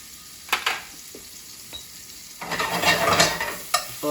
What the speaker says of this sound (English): We're going to add our onions in the butter as it's melting here.